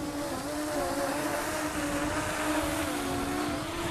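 A Parrot Anafi drone hovering and spinning overhead, a steady buzzing whine of its propellers with a clear tonal hum, close and constant throughout with no talk.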